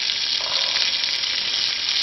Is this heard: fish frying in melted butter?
yes